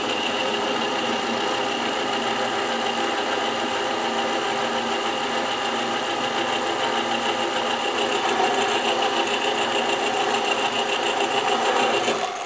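A bench drill press bores through metal for a homemade articulated tractor, giving a continuous, even motor whine with a steady cutting buzz throughout, close and unbroken.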